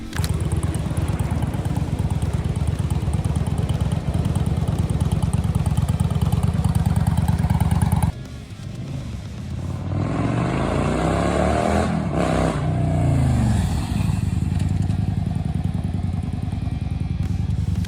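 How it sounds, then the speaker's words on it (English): A Yamaha V-Star 650 cruiser motorcycle exhaust rumbles steadily and loudly, then drops in level and revs up and down with rising and falling pitch, close by. "Exhaust sound of Cruiser Yamaha V-Star 650."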